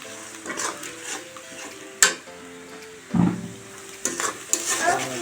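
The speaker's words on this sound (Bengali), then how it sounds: "এখন আমি হচ্ছে রসুন আর পেঁয়াজ বাটাটা দিছি। এটাতে আমি ভালোভাবে কষিয়ে নিব" Garlic and onion paste sautéed in a pan for a home curry, with a low sizzle under repeated clinks and scrapes of a spoon against the pan, one sharp knock and a few louder stirring bursts.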